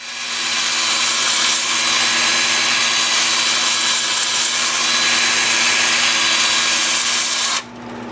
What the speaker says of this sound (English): I'm starting the sanding at 120 grit, working up through 400.